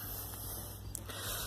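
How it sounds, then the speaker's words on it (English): Water sprayed onto a damp millipede enclosure with a handheld sprayer: a short, soft hiss of mist, quiet and close, with a brief burst near the end. "I think I might just spray this down a bit more"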